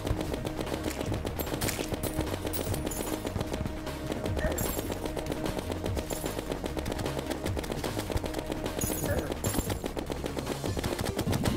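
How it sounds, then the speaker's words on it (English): In the Terraria Calamity boss fight against King Slime, the ruby in the crown fires lasers amid dense, rapid game gunfire: a relentless stream of sharp, clattering shots and bursts over a busy soundtrack, with no talking. "the ruby in King Slime's crown started shooting lasers at me"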